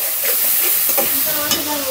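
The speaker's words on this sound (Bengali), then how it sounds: "আদা রসুন বাটা দিয়ে একটু ভেজে নিলাম।" Ginger garlic paste fries in a pan with a loud, continuous, close sizzle, broken by occasional stirring scrapes.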